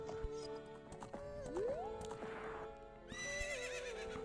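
Epona, the horse in Zelda: Ocarina of Time, whinnies amid game sounds, with clip-clop hoofbeats, a rising shrill neigh and a second whinny near the end, all fairly close and loud against background music.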